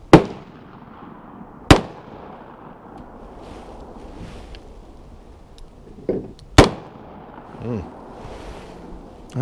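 A Smith & Wesson Governor revolver fires slugs in three sharp, loud reports spaced several seconds apart outdoors, with wind noise and some faint activity in between.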